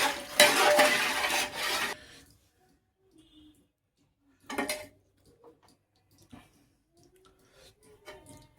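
A spoon stirs mutton sukka masala in a pot, giving a couple of short scraping, clattering bursts separated by quiet pauses, with faint knocks in between.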